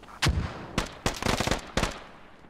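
Mortar fire in the Squad military video game: four heavy booming blasts with rumbling tails, close and loud, spaced unevenly over a couple of seconds, with no voices.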